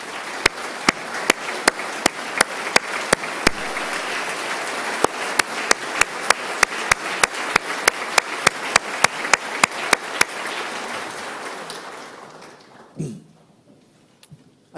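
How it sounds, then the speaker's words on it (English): Steady applause rises in a legislative gallery during the Ohio State of the State address, with sharp individual claps standing out over a dense wash of clapping for about twelve seconds before fading, then a few scattered final claps. "Kylie, please stand up so we can give you a round of applause."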